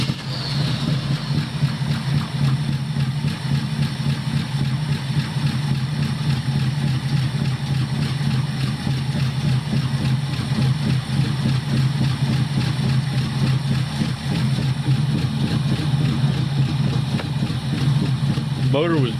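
A 1976 Chevrolet C10 squarebody pickup running on a cold day, its engine holding a steady low rumbling idle throughout, close and fairly loud, with people talking over it.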